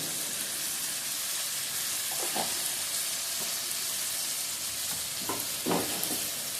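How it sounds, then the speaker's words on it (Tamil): Tomatoes and turmeric fry in a pan for a murrel fish curry, giving a steady loud sizzle with a few bubbling pops and stirring scrapes. No one talks. "தக்காளி வந்து நல்லா வதங்கி வரணும்."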